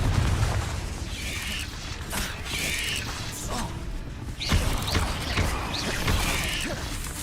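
The Confringo fire spell goes off in the video game Hogwarts Legacy, a burst of blasting, crashing game effects layered over a busy, rumbling soundscape.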